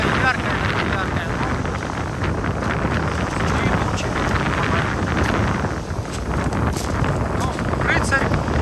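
Strong wind gusting on an evening seafront at Lazarevskoye in November, a loud, steady roar buffeting the microphone throughout with no break.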